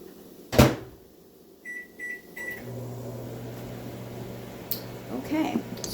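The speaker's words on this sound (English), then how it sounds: "I'm going to put this in the microwave for 90 seconds" A kitchen microwave oven door shuts, keypad beeps sound, and the oven starts with a low steady hum, close by, with a voice talking briefly over it.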